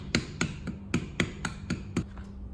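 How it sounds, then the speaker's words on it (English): A rubber mallet taps a pulley onto the motor shaft of a Kenmore Whirlpool Roper washing machine, giving about ten close, sharp knocks in a steady, slightly uneven rhythm with no talk. "I'll again tap with the rubber mallet lightly"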